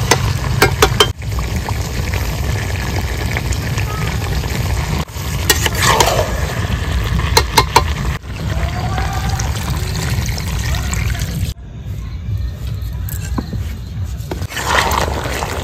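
Reserved spice water is poured into chicken cooking in a pan, causing a burst of sizzling and bubbling over steady frying, with a stir and a clatter now and then. The sound is close, and no one talks.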